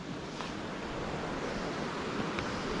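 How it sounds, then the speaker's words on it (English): Steady, dense roar of rushing water from a jungle river near an Amazon waterfall, constant and broadband with no pauses or voices. "But the sound of water is becoming more and more loud."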